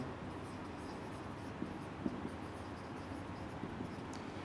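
Pen or marker writing on a board during a biology lecture, a steady faint scratching with a few small tapping strokes over low room hum, no speech.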